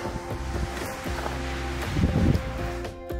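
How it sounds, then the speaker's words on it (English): Wind gusting through the mountain saddle below Humphreys Peak in Arizona, a steady rushing roar against the microphone that swells briefly, with no talking. "That's the wind whipping through the saddle"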